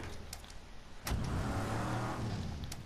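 V8 engine of a car in the Mad Max video game, heard as a quiet low rumble that swells into a rev just after a sharp click and then holds steady.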